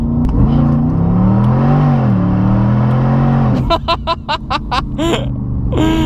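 A Mercedes SLR McLaren engine roars loudly up close, its tone climbing steadily under sustained acceleration before a rapid series of sharp gear-change bursts and revs.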